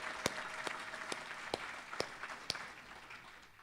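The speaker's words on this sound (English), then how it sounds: "Let's give our judges of the Court of Appeals a round of applause." Scattered, fairly faint claps ring out from a gala audience at the State Bar of Georgia inaugural dinner, honoring Court of Appeals judges, with a thin, uneven rhythm of separate hand claps rather than a full ovation.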